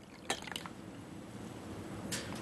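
30% hydrogen peroxide solution poured into a container, a short liquid splash and gurgle followed by quieter dribbling and a final brief splash, faint and alone.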